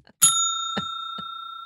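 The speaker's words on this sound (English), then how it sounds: "We're going to be using the bell today." A bicycle-style bell sound effect dings three times in succession, bright and close, the first strike loudest and each ring sustaining a clear metallic tone that lingers between hits.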